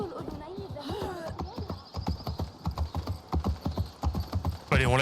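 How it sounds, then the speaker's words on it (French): Rhythmic clip-clop of horse hooves at a steady trot in the video game Assassin's Creed Mirage, with someone talking over it and a brief whinny near the end. "Allez, on lâche le cheval."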